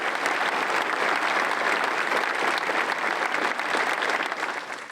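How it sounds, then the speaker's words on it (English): A public safety awards ceremony audience gives award recipients a round of applause, loud continuous clapping from a sizable crowd for about five seconds that tapers slightly at the end. "Let's give all the award recipients one more round of applause."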